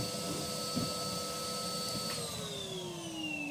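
A vacuum cleaner hoovers up soot around a Purevision BPVR cylinder stove after sweeping, giving a steady, close motor whine and airflow roar with a faint sliding pitch, no talking.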